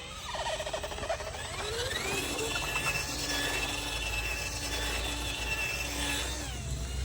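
Running engine of a mini Massey Ferguson 385 tractor as one rear tyre is braked and it turns, with a steady mechanical drone and whining, squealing tones rising and falling over it throughout.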